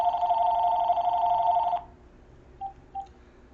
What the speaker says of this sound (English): I gotta stop this video because this phone's ringing.